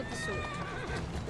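A horse whinnies inside Assassin's Creed Syndicate while pulling a carriage, one short neigh over steady game noise, hoof clatter and music, with a voice faintly present underneath.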